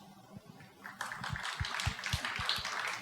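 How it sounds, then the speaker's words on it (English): A small audience at a blockchain investment discussion panel gives a sparse round of applause. It starts with a few scattered claps, then thickens into a modest, fairly quiet patter. "I would like you all to give a round of applause to my complete full house"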